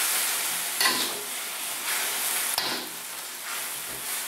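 Pork with green pepper being stirred in a hot pan, a steady sizzle with several scraping strokes of the utensil spaced about a second apart, close and moderately loud.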